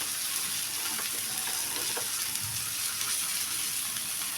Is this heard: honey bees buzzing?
no